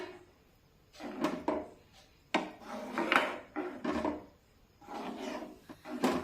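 A spoon stirring fried cashews and almonds into vermicelli kheer, close scraping and knocking against the pot in irregular strokes with short pauses between them.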